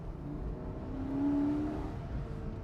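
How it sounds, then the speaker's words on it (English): Porsche 718 Boxster GTS 4.0 with its flat-six engine accelerating on a Southern California road, a steady nearby engine drone that rises in pitch and swells slightly midway before settling, heard alone without talk. "I can put the top down and hear this amazing, this gorgeous Flat-6."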